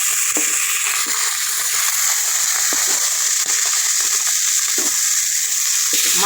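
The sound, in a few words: rohu fish pieces frying in a pan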